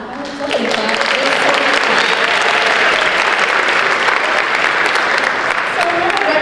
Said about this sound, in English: You can clap. I heard somebody clap.